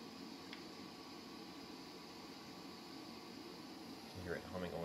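A 3CX1500D3 vacuum tube amplifier running at 20 MHz with only its filament powered gives off a steady, even broadband hum and hiss throughout, with a brief faint click early on and some clatter near the end.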